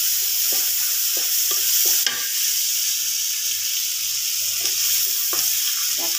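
Onion sizzles in melted butter in a pan, a soft steady frying hiss with a few clicks and scrapes of stirring and one sharper clatter, no voices.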